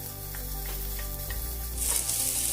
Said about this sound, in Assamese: এইখিনি মই এতিয়া অকণমান ৰঙা হোৱালৈকে ভাজি ল'ম।